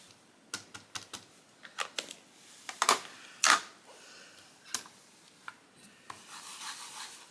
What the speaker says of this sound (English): Just got done fussy cutting that.